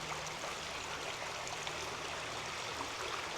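Shallow babbling brook water running steadily over rocks, a continuous soft rushing wash with no voices.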